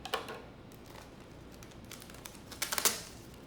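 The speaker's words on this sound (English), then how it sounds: "we're just going to take the scissors and cut off the label" Scissors snip the label off a washed, dry plastic water bottle in a few quick, close, crisp cuts, with faint crinkling in between and no talking.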